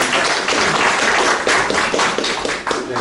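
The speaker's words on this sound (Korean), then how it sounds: "우리 집행부한테 박수 한번 부탁드립니다." Audience applause fills a hall at a provincial medical association delegates' general assembly, steady broadband clapping from a large crowd sustained for about three seconds with no voices over it.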